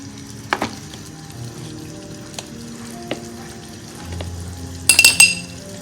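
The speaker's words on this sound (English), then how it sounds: "So I'm going to add 2 tablespoons of ginger, 2 tablespoons of garlic" Ginger and garlic frying in a pan for an egg roast, a soft sizzle with a few clinks of a utensil against the pan and a brighter burst of sizzling near the end.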